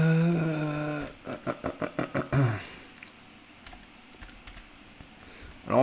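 A burst of quick, evenly spaced keystrokes on a computer keyboard, about eight close taps in a row, comes after a short spoken phrase and gives way to quiet room noise.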